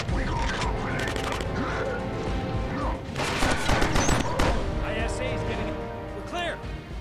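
Rapid gunfire bursts and explosions in the Killzone Mercenary shooter game, dense and loud, with shouting voices over the constant battle noise.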